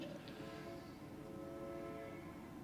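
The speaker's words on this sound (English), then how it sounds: "We got some air horn." A loud, steady horn blares continuously over a rumbling engine, sustained without a break from start to finish.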